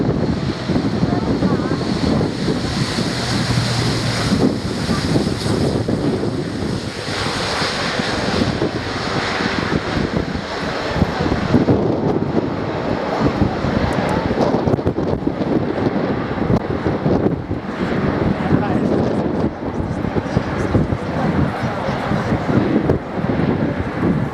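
An Airbus A400M military transport flies a display at an airshow, its broad engine roar rising and fading steadily in the distance behind heavy wind buffeting on the microphone.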